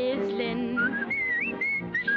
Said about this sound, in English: I'm up at the crack of dawn whistling